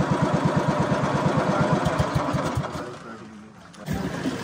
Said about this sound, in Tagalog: Medyo maingay nga lang itong bangka guys, lalo na kapag malapit kayo nakapwesto sa may makina